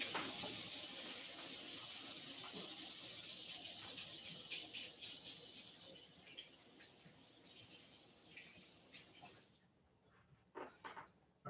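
Water comes to a boil for a yeast starter, a steady hissing, bubbling rush that gradually eases off before thinning out into a few scattered splashes and clicks at the end.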